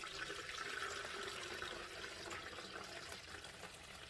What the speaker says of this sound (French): Je vais juste faire couler le bouillon.